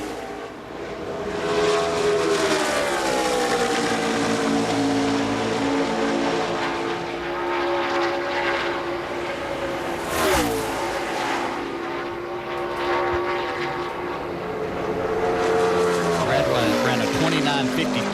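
A NASCAR stock car roars through turns 3 and 4 in pole qualifying for the 2018 Bojangles' Southern 500, its engine note sweeping up and down in pitch as it gets back on the gas, loud and sustained, with commentary over it.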